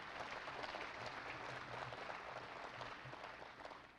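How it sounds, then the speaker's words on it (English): Applause from the audience at a grand opening event in Jonesboro, Arkansas, a steady wash of clapping lasting about four seconds at moderate level with a low hum underneath. "Give them a round of applause for the leadership that they provide."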